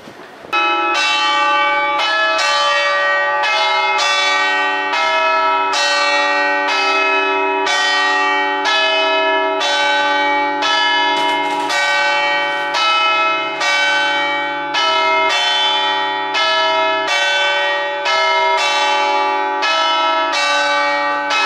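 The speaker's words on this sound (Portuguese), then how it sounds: "Olha esse sino, gente." A church bell in Venice rings steadily and loudly, its strikes repeating in a regular rhythm with long overlapping resonant tones, close and dominant with no voices.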